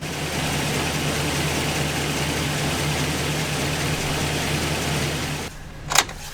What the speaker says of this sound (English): We're going to start the engine.